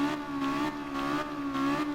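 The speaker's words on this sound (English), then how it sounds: "just gonna keep revving" Honda S800 race car from Gran Turismo Sport revving steadily, a continuous buzzy engine drone that rises and falls slightly in pitch over two seconds, sitting at a moderate level with no talk.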